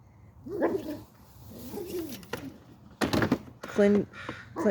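Crows caw outdoors in a few short, harsh bursts, moderately near, separated by quieter stretches with a voice talking softly in between.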